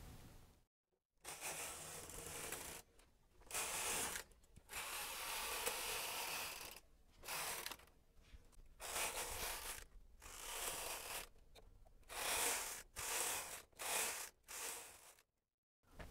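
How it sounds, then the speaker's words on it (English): A Brother 260 knitting machine carriage is pushed across the bed to knit rows with the tension set around 2 and one click. It gives close, rasping sliding sweeps, one after another, separated by brief pauses, with no talking. "For this sample, I'm going to knit 8 rows."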